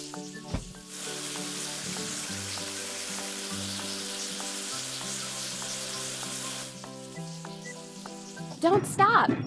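Steady hissing spray of water washing a train dining car in a kids' train video game runs for several seconds over bright game music, then stops and a short squeaky jingle follows.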